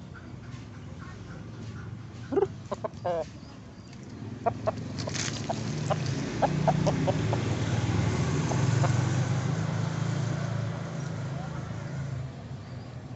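A Bangkok fighting rooster, a gamecock of size 7, clucks in a run of short, sharp calls at close range, with louder squawks early on, over a steady low background rumble.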